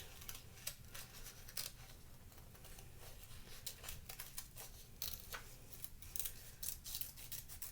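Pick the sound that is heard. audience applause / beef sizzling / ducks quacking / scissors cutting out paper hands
scissors cutting out paper hands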